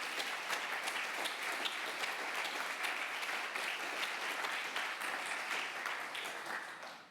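Sustained applause from an audience at a scientific forum, many hands clapping steadily before fading away at the end.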